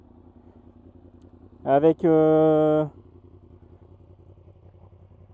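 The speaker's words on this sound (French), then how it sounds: "Je vais démarrer la moto." A Yamaha MT-10 motorcycle rated at 167 hp starts up with a loud, short burst of steady engine tone that cuts off after about a second, then a low background hum.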